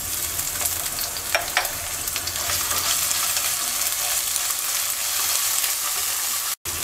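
Onion and ginger-garlic paste sizzle and crackle in a pan while being stirred, close and steady. The frying hisses without a break, with a few scraping stirs and a sudden cutoff just before the end.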